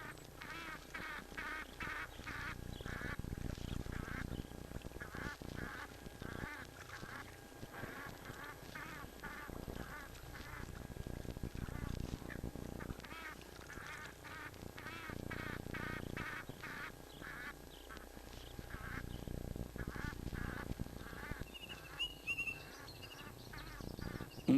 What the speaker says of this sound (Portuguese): O pântano logo se alarga e dá lugar a poços esparsos, com seus belos nadadores, os gansos egípcios